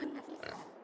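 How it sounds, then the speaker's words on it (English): A brief, faint grunting oink from a small pig in a farming video game, low and close, fading after under a second. "small pig noises"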